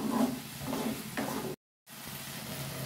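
Sesame paste being stirred into flat beans in a pan, a soft scraping and faint sizzle with spoon strokes, briefly cut to silence midway before the stirring resumes.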